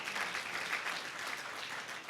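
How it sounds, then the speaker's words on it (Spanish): A church congregation at a Spanish-language morning service applauds together, a faint, distant, even patter of many hands clapping that holds steady for a couple of seconds. "Dele fuerte ese aplauso al Señor esta mañana."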